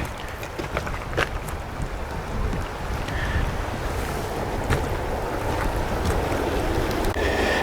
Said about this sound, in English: some of the water is coming down here, creating a little